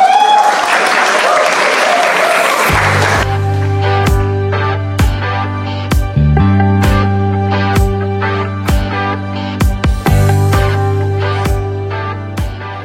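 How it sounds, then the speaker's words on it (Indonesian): Loud, lively applause from a university talk show audience greets an official for about three seconds, then cuts into music with sustained tones and regular sharp percussive hits. "Mari kita berikan tepuk tangan yang meriah."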